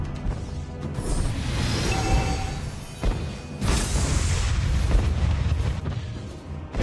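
Booming explosions and crashing blasts play during a Mobile Legends battle as a turret is destroyed, loud and layered over game effects, with a sharp burst near the middle and another rumble later.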